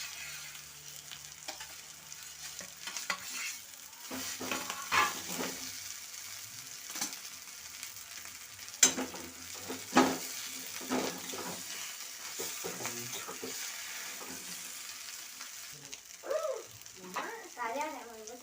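Mashed potato filling for parathas fries gently in a pan, a soft low sizzle with scraping and stirring clatter, and a voice talks quietly now and then.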